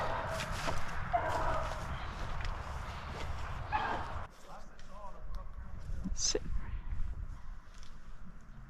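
Beagles on a rabbit hunt bark intermittently at a distance, short yips and bays rising over outdoor ambience, with people talking quietly nearby.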